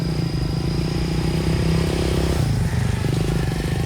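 A motorcycle engine runs steadily at night in a forest, a loud, sustained mid-range drone with a slight shift in pitch about two-thirds of the way through, as if passing close by.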